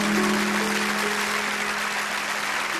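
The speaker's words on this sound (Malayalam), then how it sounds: "നല്ലൊരു കൈയടി കൊടുത്തേ." A church congregation at St Augustine's Forane Church, Ramapuram, bursts into dense, sustained applause, many hands clapping together in a reverberant hall for a few seconds, without talk.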